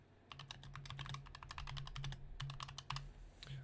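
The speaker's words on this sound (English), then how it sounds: "Hear my keyboard clicking away." Computer keyboard keys clicking in rapid, irregular bursts with brief pauses, close and fairly loud against a low steady hum.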